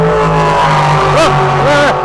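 Monster trucks racing at a live event, loud engines roaring steadily with revving pitch sweeps as they accelerate, crowd chatter and voices mixed in underneath.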